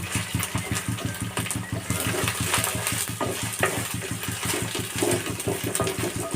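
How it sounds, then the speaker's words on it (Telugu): Ginger garlic paste and onions fry in a pan for Andhra-style fish curry, a steady close sizzle broken by a quick regular scraping rhythm from stirring, with no talking. "అల్లం వెల్లుల్లి పేస్ట్, ఉల్లిపాయలు అన్నీ వేగుతున్నాయి."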